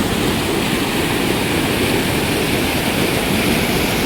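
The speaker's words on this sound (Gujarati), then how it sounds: "કેમ ધોધ પડે છે" Steady, loud roar of rushing water from an overflowing village lake at Chavand pouring over a falls, a dense continuous wash of noise with no pauses.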